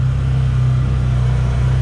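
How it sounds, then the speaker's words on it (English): Can-Am Defender XMR UTV engine pulling in low gear on a new transmission and clutch while towing a Polaris RZR XP 4 1000 High Lifter, a loud, steady low rumble held close and unbroken throughout. "I'm in low gear in the Can Am Defender on a new transmission and new clutch"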